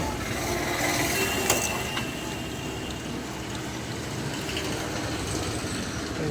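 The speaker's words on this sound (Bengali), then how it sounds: "স্টার টিপ দিলাম এখন নেক্সট পেজ মেশিন চলতেছে কপিং" An office photocopier runs through a page copy, giving a steady mechanical whir and rattle with a brief click partway through, close by and moderately loud.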